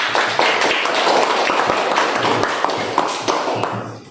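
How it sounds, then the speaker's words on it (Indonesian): Students in a classroom clap their hands together, a dense, close burst of many hands with sharp individual claps standing out, tapering off toward the end. "Tepuk tangan untuk kita semua"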